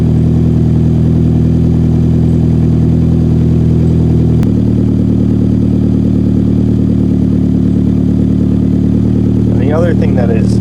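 A 2009-or-later Lancer Ralliart with a DC Sports single-exit exhaust warming up at a steady idle, a loud, close, even drone with a small step in pitch midway and a voice briefly heard near the end.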